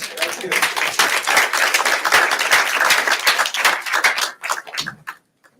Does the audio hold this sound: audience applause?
yes